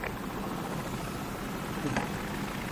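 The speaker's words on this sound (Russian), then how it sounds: "там вертолет летает" A helicopter flies in Call of Duty: Modern Warfare, its rotor drone a steady, moderately distant hum across the whole stretch with no voices over it.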